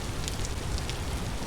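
Steady rain hisses in a survival crafting game, a dense, even patter that stays level throughout with no voices over it.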